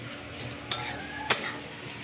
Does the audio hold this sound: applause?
no